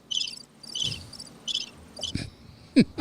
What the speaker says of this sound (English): We have Yeah. crickets.